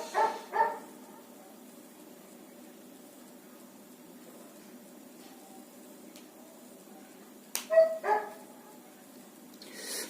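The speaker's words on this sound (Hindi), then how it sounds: "यह कुत्ता भी भौंकने में लगा हुआ है, यही चुप नहीं हो रहा।" A dog barks in short bursts, a couple of sharp barks at the start and another cluster near the end, fairly distant against a quiet indoor background.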